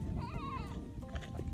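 A goat on a small farm gives a short wavering bleat, its pitch wobbling up and down over a low background rumble, moderately close and not loud, then fainter rough sounds follow.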